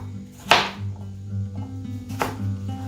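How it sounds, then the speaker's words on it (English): A knife slicing through a cucumber on a cutting board, two sharp crisp cuts about a second and a half apart, close and clear over a low background hum, no talk. "slice across the cucumber like this"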